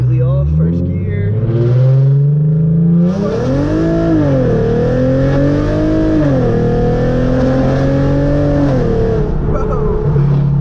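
A Hyundai Genesis Coupe with a loud exhaust launches hard in first gear with traction control off, its engine note climbing in a close, roaring pull that surges and holds for several seconds.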